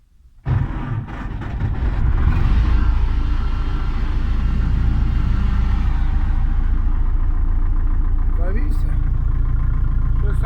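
A YUMZ-6 tractor engine fires up after standing idle through winter, catching abruptly and then running at a loud, steady, rumbling idle close by, with no talk over it.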